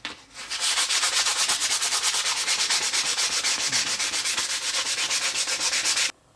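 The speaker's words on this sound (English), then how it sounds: "we're just going to give the entire block a good sanding." A maple and walnut block is sanded by hand in quick, even back-and-forth strokes, close and steady for about six seconds before stopping abruptly.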